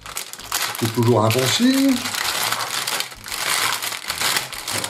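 Plastic wrapping being torn open around model kit sprues, loud crinkling and crumpling close up, with someone speaking French over part of it.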